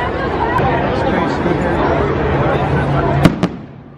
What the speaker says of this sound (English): Where are the fireworks going to come off from?